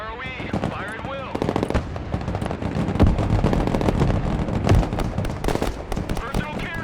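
Machine gun fire during a peacekeeping mission engagement, dense rapid bursts of shots cracking continuously and loudly with voices mixed in beneath.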